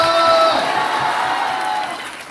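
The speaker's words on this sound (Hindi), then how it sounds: "ताली बजाकर जोरदार हालेलुया करें।" A church congregation at a Hindi-language service claps and shouts hallelujah together, a loud close mass of voices and applause that slowly fades over a couple of seconds.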